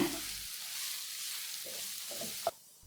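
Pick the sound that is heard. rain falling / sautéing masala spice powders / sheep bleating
sautéing masala spice powders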